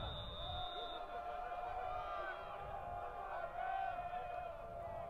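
Carroll College home crowd at a packed football game, a steady roar of cheering and excited voices from the stands that swells briefly partway through, with a whistle-like tone at the start.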